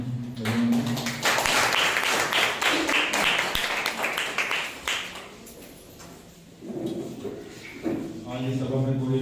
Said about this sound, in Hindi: आइए हम परमेश्वर के लिए जोरदार तालियां बजाएंगे।